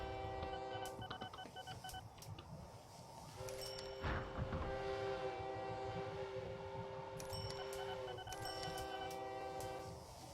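Trains and trucks in a video game rumble quietly while a train horn sounds several sustained blasts, one long and others shorter. Occasional sharp clicks cut in and no one speaks.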